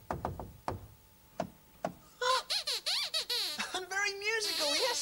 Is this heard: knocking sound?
yes